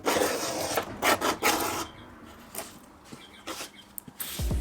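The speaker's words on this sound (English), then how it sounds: "foam you get to scrape away afterwards." Dried polyurethane glue foam is scraped off cherry wood in a few rough, raspy strokes, loud and close at first, then fading to quieter, sparser scrapes with no talk.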